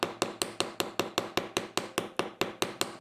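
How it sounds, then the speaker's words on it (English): A wooden doming punch struck by a hammer onto a metal jewelry disc in a block gives a steady run of about sixteen sharp, close taps, evenly spaced and alone, each with a short ringing decay. "I'm hammering on the top of the doming punch"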